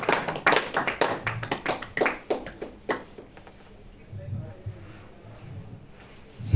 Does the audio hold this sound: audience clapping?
yes